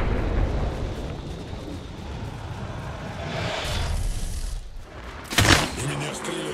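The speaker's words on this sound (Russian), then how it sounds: "Посылаю осколочную" A fragmentation grenade goes off in the shooter game Apex Legends: one sharp, loud burst near the end rises out of a steady roar of in-game gunfire and noise.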